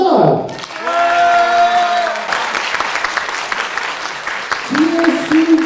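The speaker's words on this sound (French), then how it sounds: "faites un tonnerre d'applaudissements" Audience applause and cheering at the Tokyo Game Show 2024 influencer conference for Caral, a dense loud clatter of clapping from a crowd, with announcer-style voices carrying over it at the start and end.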